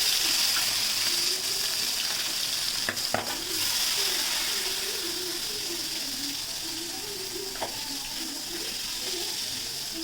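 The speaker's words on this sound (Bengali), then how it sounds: "তেলটা ভালো মতো গরম হয়ে গেছে, এবারে মাছ দিয়ে দেবো।" Pieces of shing (stinging catfish) frying in hot oil in a kadai wok: a loud, steady, close sizzle with a few sharp spatters and pops breaking through, no voices.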